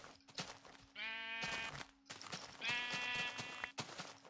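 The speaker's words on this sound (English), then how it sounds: "That's a lot of sheep." Sheep bleat in a video game, two drawn-out, wavering calls standing out over a steady low game hum and soft clicks, fairly close and loud.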